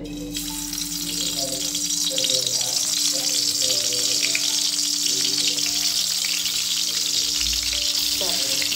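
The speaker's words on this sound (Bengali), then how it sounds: "মেয়ের জন্য একটু বেগুন ভাজি করে নেবো, রাত্রেবেলা বেগুন ভাজি দিয়ে খেয়ে নেবে। তেলটা আশা করি গরম হয়ে গেছে।" Eggplant slices fry in hot oil in a home kitchen, a loud, dense, continuous sizzle and crackle close by, steady throughout with a slight rise after the first second.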